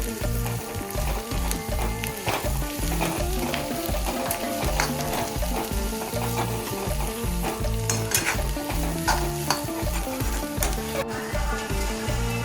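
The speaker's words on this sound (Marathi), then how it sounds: "कांदा आपला छान असा फ्राय झाला आहे आता त्याच्यामध्ये आपण व्हेजिटेबल्स टाकणार कॅप्सिकम आणि कॅबेज" Onion, capsicum and cabbage stir-fried in a pan for Hakka noodles, a constant loud sizzle broken by rhythmic clanking and scraping of a spatula tossing the vegetables.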